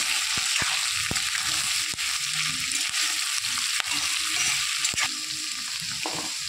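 Onion and ginger fry in a pan for a spiced chicken dish, giving a steady, loud, close sizzle with scraping stirs and occasional sharp ticks from the utensil.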